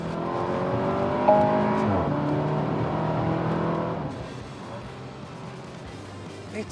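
A 2022 Porsche Macan with a bigger turbocharger revs hard after dropping two gears, the engine note rising loudly for several seconds and then easing off into a quieter drone.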